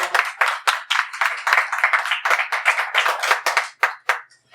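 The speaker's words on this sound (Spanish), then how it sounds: "Un aplauso para la promo." A small audience claps at a book presentation in a café in Mexico City, a few people applauding close by in a brisk, uneven patter that fades out at the end.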